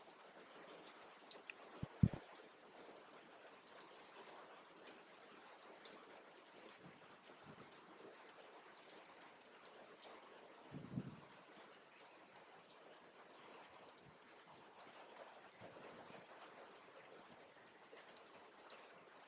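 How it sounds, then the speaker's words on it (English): Soft, steady rain patter for meditation, faint and continuous throughout with a few light drips and a brief thump near the start, no voices. "Focus on the background rain sound"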